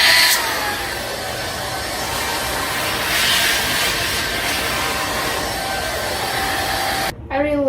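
A V10 cordless vacuum cleaner runs with a steady, loud whirring motor drone that holds almost unbroken before cutting off near the end, where a voice begins speaking.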